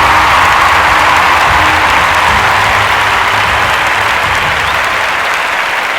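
A crowd bursts into loud, sustained applause at a cash award ceremony, many hands clapping in a thick, even roar that holds for the whole stretch without speech on top.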